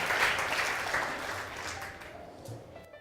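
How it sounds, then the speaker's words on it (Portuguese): A church congregation applauds, a dense wash of clapping that starts loud and gradually thins and fades over a few seconds. "Aplauda Jesus. Aplauda Ele."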